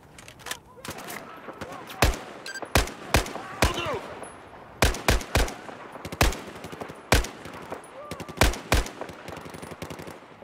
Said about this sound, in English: The gun audio still sounds so good for this game.